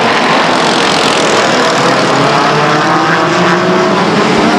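Race cars roar past the grandstand at Stockton 99 Speedway, a loud, steady wall of engine noise that stays constant throughout with no break and no voices.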